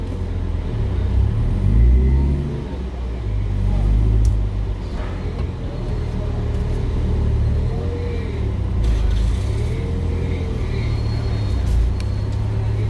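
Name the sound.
car engine while parking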